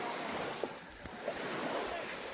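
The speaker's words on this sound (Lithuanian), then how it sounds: "Prie Juodosios jūros pakrantė," Waves wash along the Black Sea shore, a steady close surf hiss with wind buffeting the microphone and a few faint splashes.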